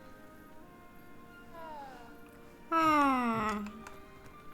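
A cat in the video game Hogwarts Legacy lets out a soft, falling mew and then a louder, drawn-out meow. Quiet room tone sits underneath, and a person makes a short vocal sound.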